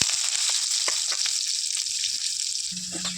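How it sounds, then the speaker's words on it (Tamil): Onion and curry leaves fry in hot oil after mustard seeds have popped in a kadai, giving a loud, steady close sizzle with a few crackles throughout. "வெங்காயம் கருவேப்பிலை சேர்த்துக்கலாம்."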